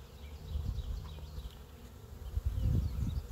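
Honeybees at an open garden hive, a close, low droning buzz that swells and fades as bees pass near, growing louder toward the end, with no voices.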